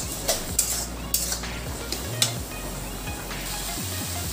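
Tomato being sautéed in a pan, a quiet sizzle under several sharp spatula scrapes and clinks against the metal, spaced irregularly and heard up close without speech.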